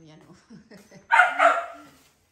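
A dog gives two quick, fairly close barks in a row, following a stretch of quiet talking.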